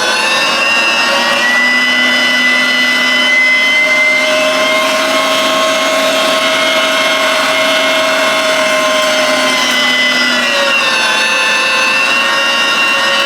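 Electric meat grinder working through chunks of chuck roast for burgers, a steady loud whining motor hum with a slight pitch dip near the end, running alone without talk.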